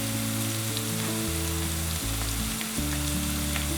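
Spices including mint, paprika, salt, hot pepper, black pepper and thyme hit a hot frying pan, giving a constant, even sizzle under steady background music.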